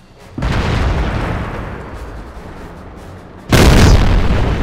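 Tank cannons fire in a tier 9 tank video game, two loud booming shots close by, the first decaying into a rumble before the second, heavier blast.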